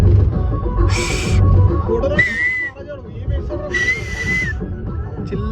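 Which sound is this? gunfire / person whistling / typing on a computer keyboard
person whistling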